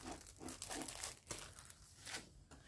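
Plastic window film crinkles and crackles as it is unpacked and handled, a string of close, irregular rustling bursts with no talk.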